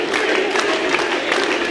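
A dense crowd roars and cheers steadily at a live CCW wrestling show, a loud, continuous wash of many voices with no lull.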